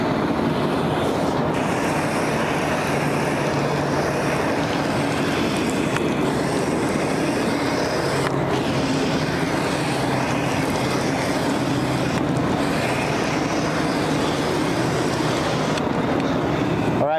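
Water from a hose sprays steadily during a firefighter's gross decontamination rinse, a constant broad hiss that stays at an even level from start to finish.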